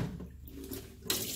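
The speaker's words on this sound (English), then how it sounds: "And I'm going to rinse it out." Salmon fillet rinsed under a running kitchen tap during Jamaican escovitch fish prep, a steady close hiss of water with a brighter splash near the end.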